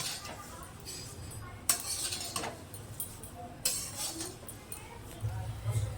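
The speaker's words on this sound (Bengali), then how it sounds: "নুনটা দিয়ে চিড়েটা ভালো করে তেলের সাথে মিশিয়ে নেওয়া হচ্ছে" Flattened rice with salt is stirred through oil in a pan, producing soft scraping and intermittent metallic clinks of a spoon against the pan, with light sizzling underneath and a person speaking over it.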